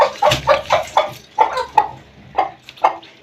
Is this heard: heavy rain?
no